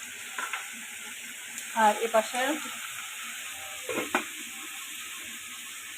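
Shrimp frying in a hot pan sizzles steadily and close up, with a few clattering stirs partway through and a single brief spoken word.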